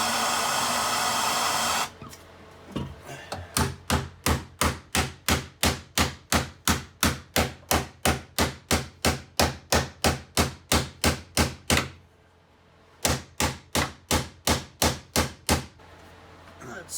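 Heated mild steel roll cage plates for an 1988 Mustang are beaten with a hammer in a fast, regular series of sharp metallic strikes, one short pause midway, after a brief burst of torch hiss at the start.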